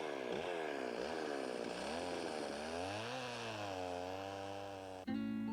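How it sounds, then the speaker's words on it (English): A chainsaw engine revs up and down while carving wooden animal figures, its pitch rising and falling as it bites into wood, then cuts off abruptly at the end. "Clyde Jones uses a chainsaw to produce the inhabitants of his wooden zoo"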